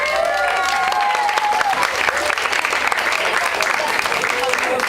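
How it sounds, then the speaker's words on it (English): An audience applauds young participants at a Sea&Learn event, including trainees working toward scuba certification. Loud, continuous clapping from a sizable crowd, with voices audible over the opening moments. "let's give these young gentlemen a round of applause"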